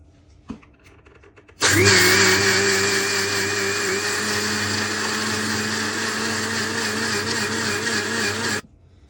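A mixer grinder whirs loudly and steadily for about seven seconds, grinding soaked rice for appam batter, then cuts off abruptly.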